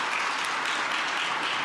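A room full of people applauds at a Budget 2025 armchair conversation with the finance minister, with dense, continuous clapping close and loud throughout.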